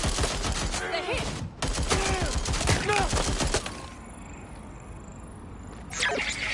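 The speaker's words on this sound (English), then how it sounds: "Shots fired! Over here!" Rapid gunfire in Watch Dogs: Legion, with dense volleys of sharp shots crackling for several seconds, a brief lull and then one more burst near the end, with voices speaking amid the shooting.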